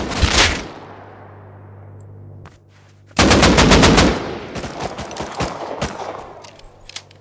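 Automatic gunfire in the console game Rust on PS5, with loud rapid bursts and a long spray of shots trailing off, then a second heavy volley of dense firing and scattered follow-up shots.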